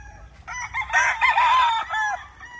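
A rooster crows loudly up close, a long strained call rising and falling, with some clucking from other chickens around it.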